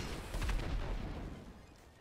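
Gunfire in the video game GTA 5, a quiet, muffled run of low booming shots that rise over the first half and then fade into a dull rumble.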